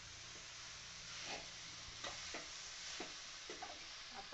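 Bharanga wild vegetable bhaji is stir-fried over a high flame, a steady sizzle overlaid by irregular scraping clinks of a spatula against the pan, close and moderately loud, with no talking.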